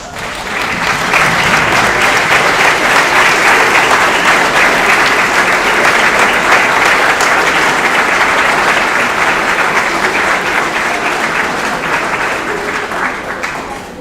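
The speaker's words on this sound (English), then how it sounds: "Please give me applause" Sustained, loud audience applause at a high school commencement in Omaha, a dense wash of clapping that swells quickly and holds steady before easing slightly toward the end.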